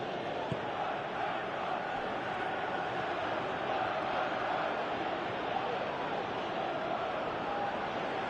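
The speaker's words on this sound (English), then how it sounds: "Crowd appreciates good football all round there" Steady crowd roar from a stadium in the PES 2018 football video game, a dense continuous wash of cheering and applause that holds at an even level throughout with no commentary over it.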